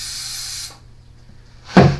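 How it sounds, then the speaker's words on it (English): Starting fluid sprayed into a generator's carburetor gives a short, close aerosol hiss that cuts off, then after a pause a second louder burst of spray noise. "Give it a little shot of bug juice."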